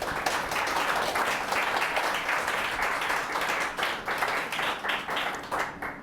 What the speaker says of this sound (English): So let's give a big round of applause to Eric Babolat